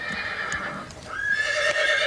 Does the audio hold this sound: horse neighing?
yes